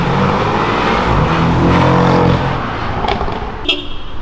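Two Porsche sports cars on Avenida Europa in São Paulo, a loud engine roar swelling as they pass close, then fading, with a short higher tone near the end.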